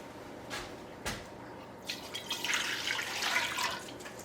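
Vinegar is poured for a pickled red onion brine: a couple of faint drips, then a steady liquid pour that splashes and gurgles at close range. No one speaks.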